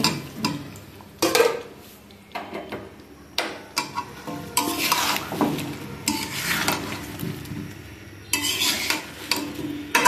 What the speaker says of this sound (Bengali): এবার আমি শালগম আর ফুলকপিটা ভালো করে কষিয়ে নিব।